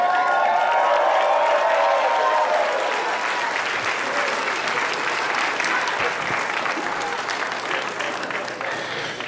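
A comedy club audience at a stand-up show claps steadily, a dense, sustained wash of applause with scattered cheers and voices, gradually thinning toward the end.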